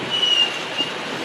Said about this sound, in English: Oh, and a passing Pendolino coming through as well.